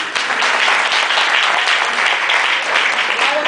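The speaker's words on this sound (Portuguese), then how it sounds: "eu peço aos irmãos que recebam o missionário com uma salva de palmas" A church congregation breaks into steady, dense applause for a visiting missionary, filling the room with loud, continuous clapping throughout.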